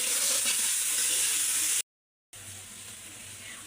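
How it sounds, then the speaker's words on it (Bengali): Onions and chilies fry in a pan with a steady, loud hiss of sizzling oil, briefly cut by a short silent gap before the sizzle resumes. "এখন এগুলো হচ্ছে খুব ভালো করে ভেজে নেব।"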